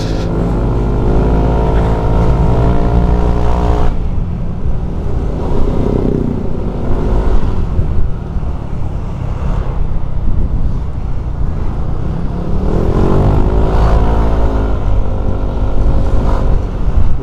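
A Yamaha NMAX scooter with a 60 mm bore-up kit drones loudly while ridden, its engine rising and falling as the throttle opens and closes, with heavy wind rumble throughout.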